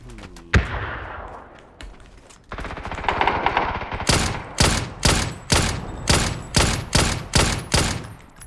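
A sharp blast, then a roar of gunfire in the video game PUBG builds into a string of about eight loud, evenly spaced shots, close and punchy.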